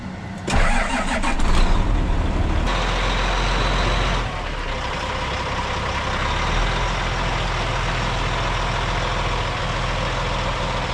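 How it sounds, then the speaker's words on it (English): A semi truck on a farm starts up and pulls ahead, its engine roaring loudly at first and then settling into a steady, close rumble. "So I gotta pull the semi ahead now."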